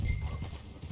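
Horse hooves clip-clop in a steady riding rhythm in the Red Dead Redemption 2 video game, with a low rumbling backdrop and no talk.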